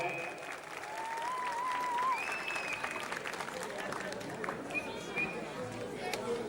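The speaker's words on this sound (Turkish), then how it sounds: "Bir alkışlayalım lütfen" Crowd applause at an outdoor sports club day for a Turkish football team, scattered sharp claps rising and thinning, heard at a distance with chatter and whistling mixed in.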